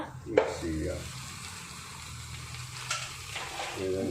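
Washed chicken dropped into a hot pan for a Kerala chicken varattu, giving a loud sizzle at first, then a steady fry with scraping stir strokes.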